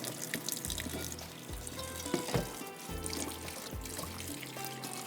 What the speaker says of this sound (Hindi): इसको थोड़े ठंडे पानी में निकाल लीजिएगा वरना ये जुड़ जाता है एक दूसरे से।